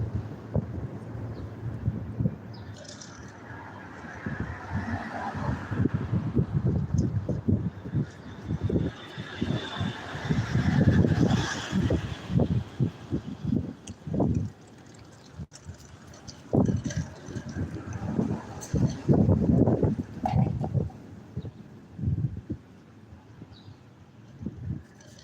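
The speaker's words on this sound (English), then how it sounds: "that wind is really starting to pick up." Wind blowing outdoors under a bridge buffets the microphone in uneven, gusty bursts that build and fade over the whole stretch, loud at times.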